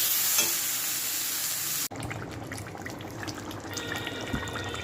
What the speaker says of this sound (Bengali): এবার তরকারিটাকে কষে নেবো